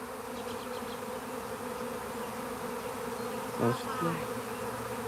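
A live swarm of honeybees balled up on a tree branch gives a steady, close buzz that fills the whole stretch, with a slightly louder pass near the end and no voices.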